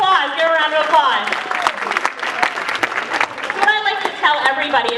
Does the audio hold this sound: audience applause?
yes